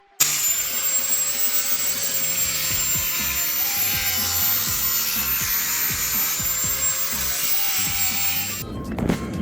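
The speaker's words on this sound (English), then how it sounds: "So we're just gonna go ahead and chop it off. Yep, angle grinder away." An angle grinder cuts off a stubborn bolt on a Subaru, a steady high-pitched whine with grinding rasp that runs loud and unbroken for several seconds before spinning down at the end.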